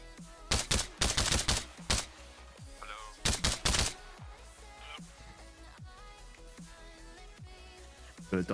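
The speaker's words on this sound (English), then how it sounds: "Lo and behold, they've got an MG." In Arma Reforger, machine gun fire comes in two sharp, loud rapid bursts, followed by scattered distant shots and ambient battlefield noise.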